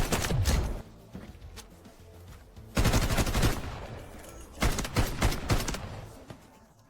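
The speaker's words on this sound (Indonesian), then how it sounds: "Terdengar suara tembakan senapan mesin di jembatan." Bursts of rapid machine gun fire on a bridge in a game, three separate volleys with quieter gaps between, sharp and close with echoing tails.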